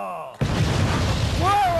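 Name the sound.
gunfire shots after the order to fire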